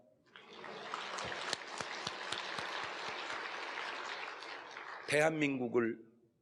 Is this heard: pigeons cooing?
no